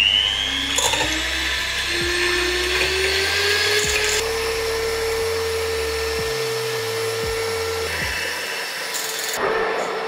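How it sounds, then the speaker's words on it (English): An electric hand mixer whips egg whites for a tres leches cake, a steady whining motor hum that shifts pitch as the speed changes, close and continuous with clattering against the bowl. "I'm preparing to mix up the egg whites, which is the key ingredient in making the cakes"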